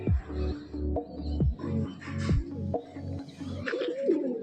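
Pigeons cooing at a home loft, repeated low throaty coos in a steady rhythm, close and clear, with faint chirps and background noise and no speech.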